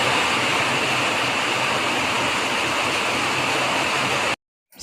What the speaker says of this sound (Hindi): सुना आपने कितनी भयंकर बारिश हो रही है, बहुत भयंकर।